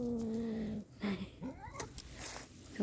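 A ginger cat out on a walk meows in several drawn-out, wavering calls with clear harmonic sweeps, close and fairly loud over a quiet outdoor background, with no talk over it.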